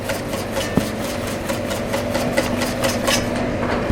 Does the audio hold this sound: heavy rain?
no